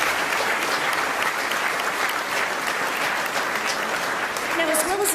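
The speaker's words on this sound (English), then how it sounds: "How about another round of applause?" Sustained applause fills a gala awards dinner hall for several seconds, a dense, steady wash of many hands clapping at even loudness with no voices standing out.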